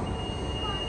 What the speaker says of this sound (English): This is not a bus. Ah, a tram.